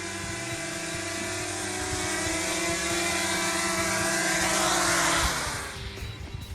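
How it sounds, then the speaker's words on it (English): A remote-controlled drone's rotors whine in a loud, steady buzz with shifting pitch that swells and then fades away near the end, outdoors with no talking. "we're just going to use the drone occasionally in some places and fields"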